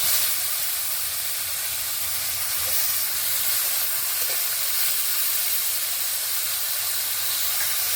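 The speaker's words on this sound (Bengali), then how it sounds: "ওই তেলেতেই আমি আলুগুলো ভেজে নেব" Potatoes rubbed with salt and turmeric fry in oil in a pan, giving a steady, continuous sizzling hiss that holds evenly throughout with no voices.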